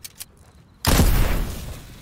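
A single loud gunshot in Fortnite: one sharp, close blast that hits hard and rings out with a rumbling tail, preceded by a couple of faint ticks.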